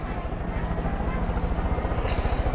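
A helicopter in the video game Far Cry 5 runs loud and close, its rotor beating in a fast steady rhythmic thump with engine whine above, continuous throughout.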